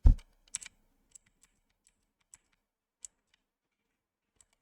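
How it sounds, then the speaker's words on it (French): Computer keyboard keys pressed one at a time, a heavier thump at the start followed by a quick cluster of clicks and then sparse, isolated taps spread out over a few seconds, close and clear in an otherwise quiet room. "Vous entendrez vite fait le clavier."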